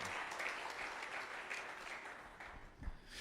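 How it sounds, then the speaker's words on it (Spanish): Church congregation applauding during a Spanish-language sermon, a steady wash of many hands clapping that fades slightly toward the end with a low thump near the close. "Denle ese aplauso al Señor"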